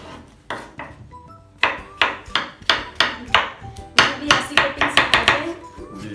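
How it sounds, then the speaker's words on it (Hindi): Sharp knife strokes chopping cucumber on a cutting board in a home kitchen, a steady run of crisp taps that quickens into rapid bursts, close and clear with no talking. "चलिए, हम काटेंगे पहले खीरा।"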